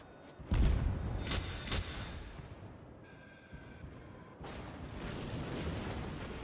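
Secondary guns firing in a World of Warships naval battle: a few heavy booming blasts close together, then a rumbling lull and another sustained roar of gunfire.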